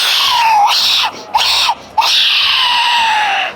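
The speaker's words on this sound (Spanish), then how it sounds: "Ese silbato se llama el silbato de la muerte, y es que escúchenlo." A ceramic Aztec death whistle is blown in three loud, shrill bursts that sound like a human scream, with two brief gaps between blasts and a long final wail.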